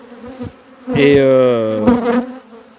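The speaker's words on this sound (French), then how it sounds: "Les abeilles vont redescendre de la réhausse avec le chasse-abeilles dans la ruche." Honeybees buzzing loudly and close by a hive during a bee rescue, a steady drone that swells and holds for about a second before fading, with a brief voice nearby.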